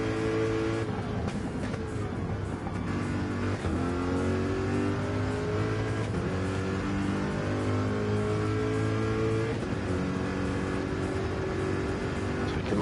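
A GT race car engine in a sim racing sprint at Road Atlanta, loud and continuous, with its pitch climbing and dropping through gear shifts and corners across a lap, no voices over it.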